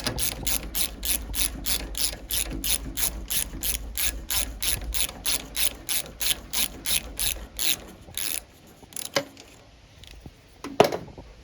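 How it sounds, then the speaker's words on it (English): Socket ratchet loosening the spark plug on a Poulan engine, a steady rhythmic series of loud close clicks for about eight seconds, followed by a few isolated knocks and clatters. "got the old socket here. Just going to pop off the spark plug"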